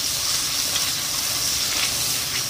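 Sambal sizzles and fries steadily in dark oil previously used for frying anchovies, with ginger in the mix, a loud, continuous close-up crackle with no talking over it.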